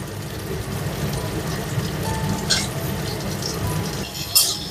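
Chopped onion with chana dal and black lentils frying lightly in a pan for dal dosa, a steady soft sizzle with a few spatula scrapes and clinks against the pan.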